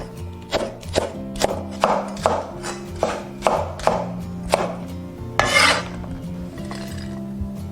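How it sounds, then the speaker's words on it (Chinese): Knife slicing long green chili peppers diagonally on a cutting board, about a dozen crisp, evenly spaced chops at a steady rhythm, close and clear over soft background music. "把线椒洗净，斜刀切断。"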